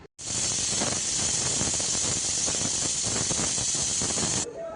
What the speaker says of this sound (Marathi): आता कुकरला 3 शिट्ट्या काढू.